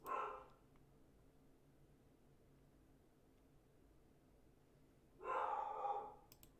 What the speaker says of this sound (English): Sounds like Amazon is delivering something because my dog is going crazy.